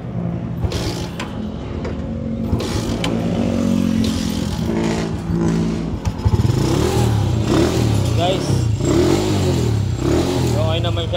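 A SYM Wolf 125 motorcycle with a fault that makes it stall is started, its engine catching after mechanical clatter and settling into a loud, close, uneven running rumble, with a voice talking over parts of it.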